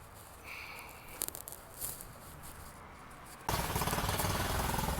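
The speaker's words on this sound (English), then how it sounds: "get a very high pressurized pressure washer, something with a lot of power, and that's what's gonna make the foam" A high-powered pressure washer sprays foam onto a dirty Toyota RAV4. Faint spattering and a low motor hum give way to a sudden, loud, steady hiss of spray close by that continues to the end.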